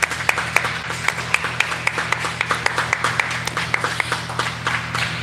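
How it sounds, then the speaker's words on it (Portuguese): At a home worship service, a small group claps in steady rhythm, producing evenly spaced moderate hand claps over a low background hum. "Vamos aplaudir a Ele."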